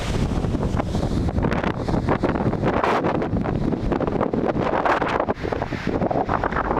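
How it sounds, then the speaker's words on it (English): Strong, steady wind roars across bleak, open high ground in stormy weather, buffeting the microphone with continuous heavy rumble and gusty rushing throughout, no voices. "So when that wind blows, and at the minute, she's blowing."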